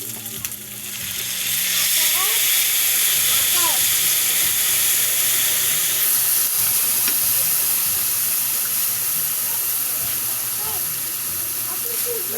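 Squid balls and kikiam fry in hot oil while soy sauce is added, giving a loud, steady sizzle and hiss with occasional stirring clatter throughout.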